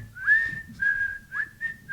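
A person whistles a tune up close, a series of clear sustained notes with small upward slides between phrases.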